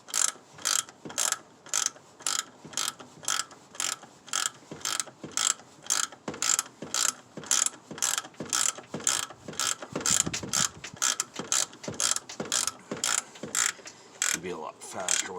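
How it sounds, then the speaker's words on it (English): An electric ratchet tightens the brake master cylinder on a 1989 Ford F250, a rapid series of sharp ratcheting clicks in a steady rhythm, close and clear, with short pauses. "electric ratchet"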